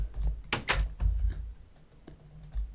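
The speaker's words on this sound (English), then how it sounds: "Close the door." Door closing in Minecraft, a few sharp wooden clicks and knocks in quick succession, close and fairly quiet, followed by softer taps.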